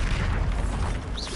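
The Bombarda explosion spell bursts in Hogwarts Legacy, a loud, dense boom with rumbling low end and crackling debris that sustains for over a second, ending with a brief rising magical whoosh, without any talking.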